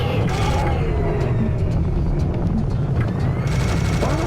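Rapid gunfire blasts through a large corridor in the video game Serious Sam, dense and loud over a constant low rumble, with occasional muffled voice sounds mixed in.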